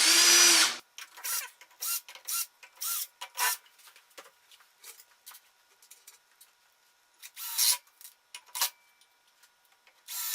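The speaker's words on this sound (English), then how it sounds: "Then I usually pre-drill the holes." A power drill pre-drills screw holes in wooden coaster pieces, a loud short burst of motor whine followed by repeated brief scraping, rubbing bursts at close range with quiet gaps between them.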